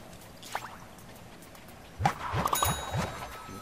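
A ringing telephone booth in Plants vs Zombies Battle for Neighborville, heard as faint game tones and a short series of bright dings and drips in quick rhythm over a quiet background.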